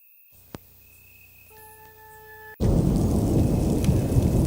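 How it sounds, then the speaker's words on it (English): Thunder rolls in as a loud sustained broadband rumble after a quiet start with a faint tone and a single tap, the roar swelling and holding steady to the end. "That thunder?"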